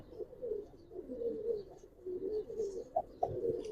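Giribaz pigeons coo in low, repeated throaty phrases, close and fairly soft, with a few brief chirps near the end and no talk.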